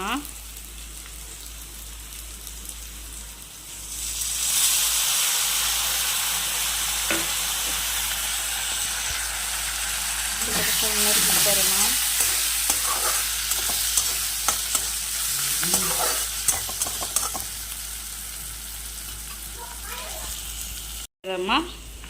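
Food frying in a pan and being stirred, with a steady broad sizzle and scraping stir strokes through the middle section; a few brief voice-like sounds occur in the background.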